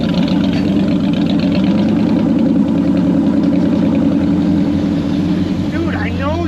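A Land Rover engine rumbles steadily at low revs as the vehicle rolls downhill on its own power on an off-road hill trail, a constant loud drone with wind and a brief bit of distant chatter near the end.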